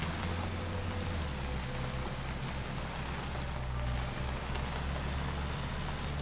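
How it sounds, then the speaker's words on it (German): Steady heavy rain in the video game SCUM, a dense, constant hiss with a low rumble underneath, continuous and unbroken. "Sonne, aber auch viel Regen."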